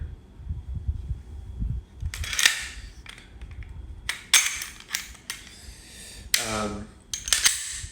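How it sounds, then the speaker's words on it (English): An IWI Masada pistol being put back together, with a run of sharp metallic clicks, slide clacks and snaps of parts seating, several loud and close, spread across the stretch with a quiet handling rustle between them. "so let's put this gun back together."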